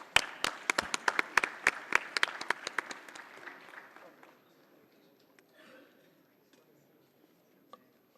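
A conference audience at a diamond jubilee event applauds the presentation of a token of gratitude, with a burst of distinct, sharp claps that thins out and fades after about four seconds, leaving quiet room noise and a stray clap.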